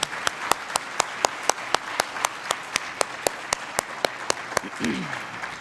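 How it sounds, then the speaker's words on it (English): Keynote audience at an IBAO event clapping for speaker Jeremiah, sparse and fairly faint with sharp individual claps spaced through the room, ending under a brief low voice. "please join me in another round of applause for Jeremiah"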